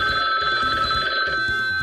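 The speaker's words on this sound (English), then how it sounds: "my phone went off." A phone rings loudly and close by with a steady, continuous ringtone that holds for nearly two seconds. There is no talking.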